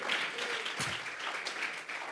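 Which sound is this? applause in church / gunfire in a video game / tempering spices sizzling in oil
applause in church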